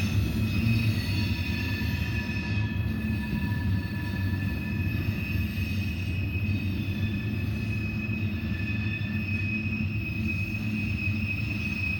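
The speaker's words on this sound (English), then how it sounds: "we have a CSX train coming off the B&O westbound" A CSX freight train rumbles past close by at Deshler, a steady heavy roar with high metallic wheel squeals ringing above it the whole time.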